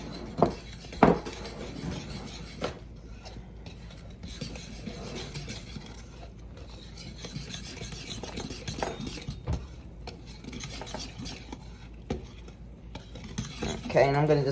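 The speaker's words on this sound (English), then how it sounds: "we're gonna just whisk it until it's smooth" Pancake batter is whisked in a bowl until smooth, a long run of quick rhythmic scraping and ticking of the whisk against the bowl, close and steady, with a few louder knocks and no talk.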